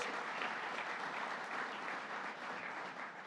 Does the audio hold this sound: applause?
yes